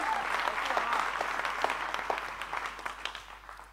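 An audience applauds together at a poetry performance, with steady, dense clapping throughout and a slight fade toward the end.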